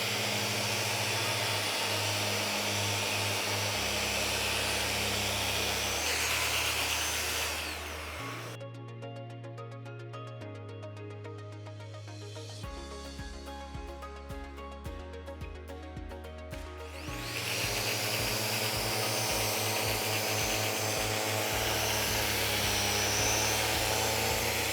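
A Festool Rotex 90 geared eccentric sander runs loud and steady without dust extraction, its motor whine dipping and changing pitch for several seconds midway before returning to full strength, with no talking.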